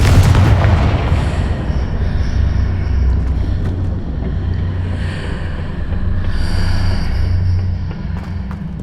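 A Confringo spell detonates in Hogwarts Legacy, a heavy booming explosion that rolls into a long, dense low rumble lasting several seconds with faint crackling and whooshing layered on top.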